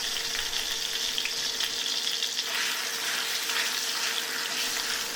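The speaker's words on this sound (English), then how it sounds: "Hot wok, cold oil, and the chicken goes in" Steady, loud sizzling and crackling of chicken frying in oil in a hot wok, continuous throughout with no voices.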